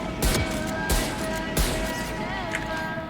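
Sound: Marshal sniper rifle gunfire in the video game Valorant

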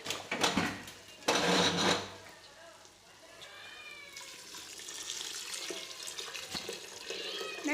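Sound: water being poured into rice for pulao

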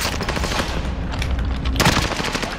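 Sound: gunshots from a video game shooter

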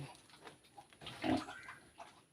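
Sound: pigs grunting on a farm

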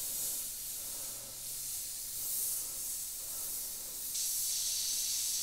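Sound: Iwata HP.TRN2 airbrush spraying paint

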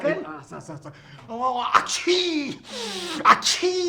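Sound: sneeze

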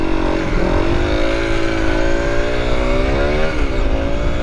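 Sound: 125cc motorcycle accelerating in first gear

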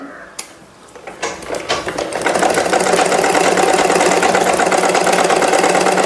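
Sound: sewing machine stitching along a chalk line

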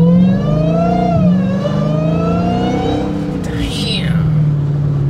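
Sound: 2023 Hellcat Jailbreak engine revving with supercharger whine

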